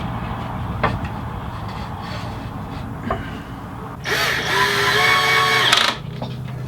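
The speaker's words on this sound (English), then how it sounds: "Drop these into place. And screw them down." A power drill with a light clutch setting drives screws into wooden shoe rack boards, with a couple of brief taps before a sustained whirring burst of about two seconds. It is close and loud against a steady background hum.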